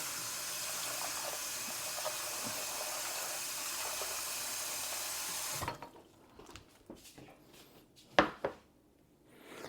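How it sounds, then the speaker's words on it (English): Chestnut mushrooms from a farmer's market being washed with water: a steady running-tap rush for about six seconds, then it stops, leaving scattered clicks and light handling knocks. "So I'm gonna wash these mushrooms"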